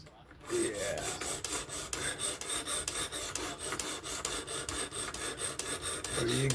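A Spyderco Kapara knife with an S30V steel blade is stroked against the stone of a fixed-angle sharpener, making a steady run of close, gritty rasping strokes in an even back-and-forth rhythm.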